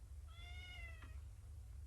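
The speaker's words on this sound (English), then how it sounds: "A cat?" A cat gives a single clear meow, quiet and close, in a domestic interior scene from a classic horror television episode, with a low steady hum underneath and no talking.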